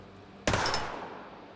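A single sharp gunshot in the video game SteamWorld Heist II, a sudden loud crack with a short ringing decay and nothing else around it.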